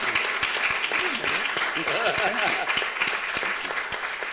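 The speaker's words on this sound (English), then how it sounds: "let's give him a round of applause" Audience applause at a Black theatre conversation event, a brisk round of clapping with some sharp nearby claps, while voices talk and call out over it in the middle before the clapping tapers off.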